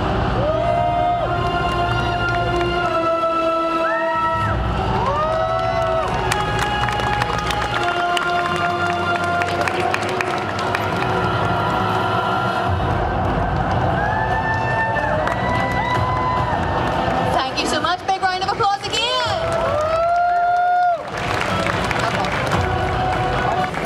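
A large crowd at a Liverpool comic con cosplay show cheers, whoops and claps loudly and continuously, swelling in waves, while a presenter talks over a sound system with music playing.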